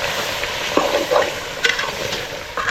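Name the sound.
stirring chicken with masala in a pan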